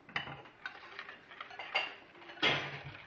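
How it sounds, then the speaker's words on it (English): A spoon or whisk stirs custard ice cream base in a kitchen bowl, soft clinks and scrapes against the bowl in an uneven rhythm, close and fairly quiet. "Mixing in the kitchen, mixing in the kitchen"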